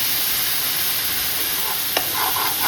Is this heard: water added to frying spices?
yes